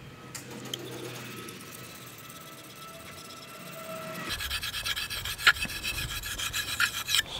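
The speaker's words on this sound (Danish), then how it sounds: "Så nu har jeg poleret på kniven et godt stykke tid" A knife blade is polished on a Belgian whetstone with steady rasping, rubbing strokes. They are fairly quiet at first, then grow louder and brighter for the second half, up close with no talking.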